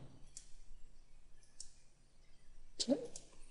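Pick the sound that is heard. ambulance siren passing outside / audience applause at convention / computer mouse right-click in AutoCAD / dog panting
computer mouse right-click in AutoCAD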